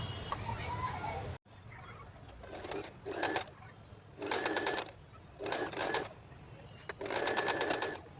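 A sewing machine stitches a newborn baby cap in short rattling bursts, about five runs separated by pauses, with someone talking softly in the quiet gaps between them.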